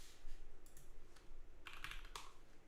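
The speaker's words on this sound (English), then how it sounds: "We're going to do another typing test." Typing on a custom-built Daring Run DR70F mechanical keyboard, with clusters of quick key clacks in short irregular bursts over a low hum, fairly close and moderate in level, and no voices.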